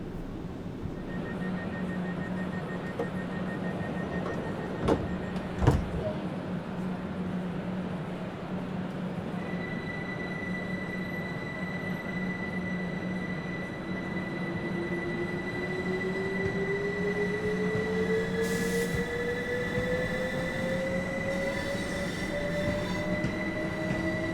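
Electric passenger train pulling out of Brighton on the East Coastway line toward Eastbourne in Train Sim World 2, with a steady traction hum, a rising motor whine as it accelerates, and a couple of clunks early on.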